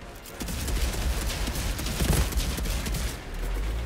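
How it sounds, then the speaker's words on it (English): Grenade explosions in the shooter game Outriders blend into continuous heavy gunfire-like blasts, loud and dense throughout with no pauses. "here comes the grenade damage"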